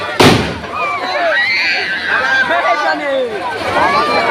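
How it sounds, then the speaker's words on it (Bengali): Fireworks at an outdoor display in front of a neighbourhood club open with one sharp, loud bang, followed by whistling, crackling bursts under steady crowd noise and chatter. "আতশবাজি প্রদর্শনী"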